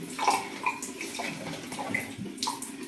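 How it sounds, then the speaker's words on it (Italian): Hot water poured from a kettle into a bowl, a close, continuous splashing gurgle with small bubbling bursts, steady throughout and without talk. "Adesso acqua dal bollitore, acqua bella calda"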